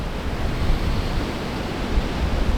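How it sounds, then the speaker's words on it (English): Strong gusts of wind buffet a microphone outdoors on a sunny day, making a loud, steady low rumble with no break and no talking. "the sun's out, kind of really windy, so hopefully the wind's not messing up the audio."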